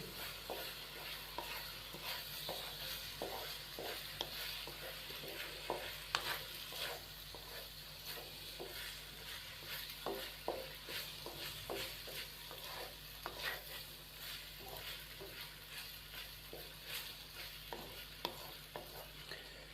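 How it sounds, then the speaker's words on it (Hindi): Boiled macaroni being stirred into sautéed vegetables in a pan for a spicy vegetable macaroni, with repeated spoon scrapes and clinks over a faint, steady sizzle, close and continuous with no talking. "मैकरोनी शामिल करने के बाद हम इसको अच्छे से मिक्स करेंगे"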